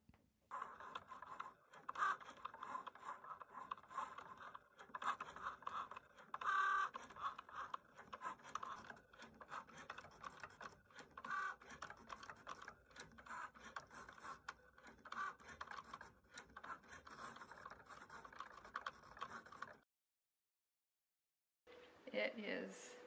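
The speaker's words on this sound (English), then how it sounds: "I got a Cricut for Christmas, and this is me using it one of the first times" Cricut cutting machine writing and cutting at home, a close, continuous mechanical whirring and scraping with rhythmic carriage movements, broken by a brief pause near the end, with people talking faintly in the room.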